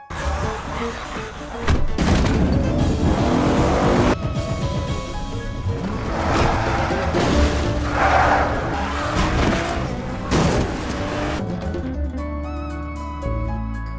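A car is driven recklessly in a film scene: roaring engine surges, tire squeals and skidding, and heavy thumps and slams over a dense music-like soundtrack, cutting off abruptly near the end.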